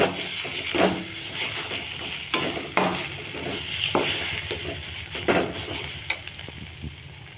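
Grated potato filling being stirred in a frying pan, scraping and soft sizzling strokes repeating irregularly, close and fairly quiet, with no talk.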